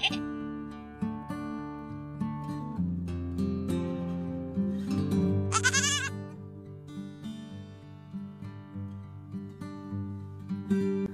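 Goats bleating on a backyard livestock farm, repeated wavering calls rising and falling throughout, fairly close and clear, with one sharp high cry midway.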